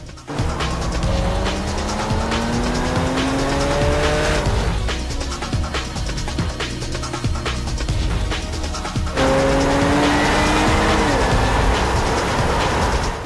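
A Jaguar XE S is driven hard around a race track: the engine revs climb loudly through gears, tires squeal, and the sound cuts briefly between runs. It is loud and close.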